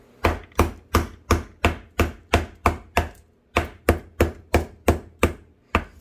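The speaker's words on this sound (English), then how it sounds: "we'll try chopping on some wood." A Cold Steel 4MAX Scout folding knife with an AUS10 blade chops into wood, about fifteen sharp, close thwacks in a steady rhythm with one brief pause midway.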